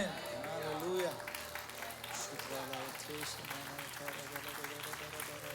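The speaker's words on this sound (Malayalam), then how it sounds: "കൺഫ്യൂഷനുള്ളവരോ ഇല്ലാത്തവരൊക്കെ കൈയടിച്ചു" An audience in a church claps during a sermon, with a brief burst of applause at the start that fades under a preacher's continuing speech.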